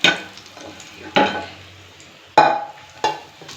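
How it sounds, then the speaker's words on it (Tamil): Cashews roasting in a pan for Malabar chicken biryani, giving a few sharp stirring scrapes and clinks of a utensil against the pan over a faint low sizzle, spaced irregularly and fairly close. "இதில் இந்த முந்திரியும் ரோஸ்ட் பண்ணிக்கிறேன்."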